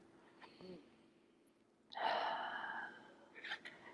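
A person takes a slow, audible breath, a soft inhale followed by a longer airy exhale, quiet and close, with faint vocal sounds around it during a guided meditation.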